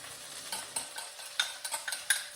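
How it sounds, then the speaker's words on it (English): Butter and garlic sizzle softly in a frying pan while a utensil stirs and scrapes, with a few close, light clicks over a faint, steady frying hiss. "putting our butter and garlic in there."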